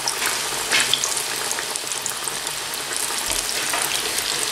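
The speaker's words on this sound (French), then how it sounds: "dans une huile chaude, je vais plonger mes grillwash" Griwech pastries fry in hot oil over low heat, a steady dense sizzle and crackle with bubbling bursts, close and continuous with no talking.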